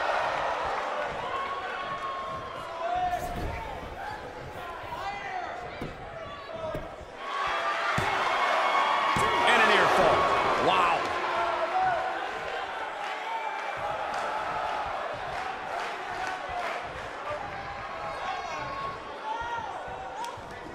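A wrestling arena crowd at a Tiger Jeet Singh match roars and murmurs, swelling into a loud surge midway before settling into a steady background rumble with thuds and scattered shouts.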